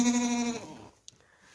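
A goat gives one clear, close bleat on a farm where goats are giving birth to kids. The cry lasts about half a second and is followed by near silence.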